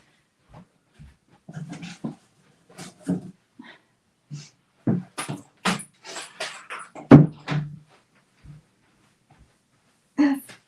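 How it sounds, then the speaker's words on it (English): A door is pushed shut in a home craft room, giving a few sharp thumps and clicks between quieter scattered knocks and rustles. "Oh, I'm just going to shut my door."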